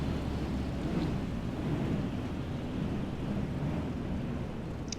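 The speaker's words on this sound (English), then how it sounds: "This wind is really blowing now." Wind blows in Microsoft Flight Simulator during a bush flight from Tivat to Tirana, a steady low roaring rush that stays broad and constant throughout, with no voices.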